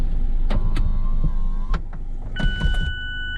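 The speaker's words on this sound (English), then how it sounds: "So this is how the roof goes down." Retractable hard roof of a 2019 Mazda MX-5 Miata RF lowering, close electric motor whine with mechanical clunks and a few chimes near the end, no talking.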